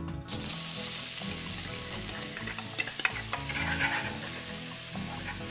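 Chopped onions sizzle in generous hot oil in a pan, a continuous bright frying hiss with occasional stirring scrapes and small crackles, fairly quiet and without voices.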